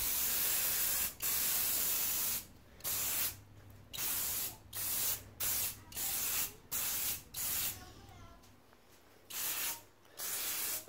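Bursts of spray from a waterproofing can coat a tent's seams, about a dozen short hissing blasts in an uneven rhythm separated by brief pauses, close and loud.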